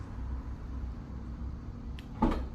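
A faint mechanical click followed by a sharp thunk of a Renault Clio 4 trunk latch releasing near the end, over quiet background hum.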